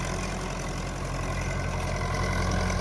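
A Ferguson 265 tractor engine idles with a steady low chugging rumble, constant and close, with no one speaking.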